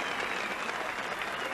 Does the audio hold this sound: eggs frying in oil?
no